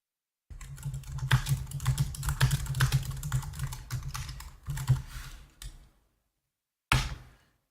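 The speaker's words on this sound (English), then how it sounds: "I'm going to send keys, which just means type something there." Rapid typing on a computer keyboard, close and fairly loud, runs steadily for about five seconds of dense clacking keystrokes, falls silent, then returns in a brief final burst.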